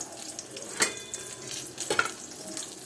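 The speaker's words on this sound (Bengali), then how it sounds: "এখন এগুলো ভাজবো," Eggplant slices frying in a pan give a quiet, steady sizzle, broken by two sharp scrapes of a spatula or utensil against the pan, with no talking.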